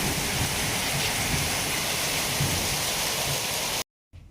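A summer storm dumps heavy rain over Udon Thani, a dense, steady roar of downpour filling the whole clip before it cuts out abruptly near the end, with no one talking.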